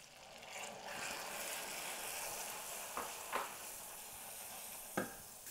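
Rum hits hot caramel for a salted caramel sauce and sets off a soft, continuous sizzling hiss, with a few brief sharp crackles, heard quietly and alone.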